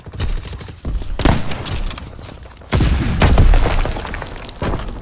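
Artillery battery firing in a video game, with repeated deep booms and bursts of gunfire-like blasts rolling one after another, loud and dense, a heavier barrage building in the second half.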